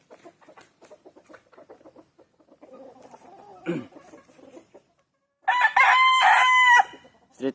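A Kelso gamefowl rooster crows once, loud and close, a long harmonic cock-a-doodle-doo following several seconds of soft clucking and scratchy farmyard sounds.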